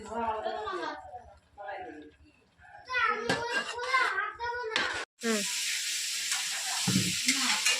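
Cauliflower cooking in a pan sets up a steady, hissing sizzle over the last few seconds, after children and an adult talk nearby.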